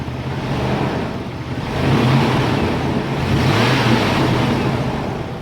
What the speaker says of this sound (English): the motor's in, fan shroud's in, motor's running as you can hear